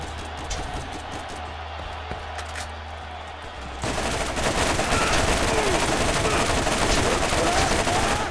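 Rapid SMG gunfire from Borderlands, with a dense, continuous rattle of shots that thickens and gets louder midway and keeps going to the end.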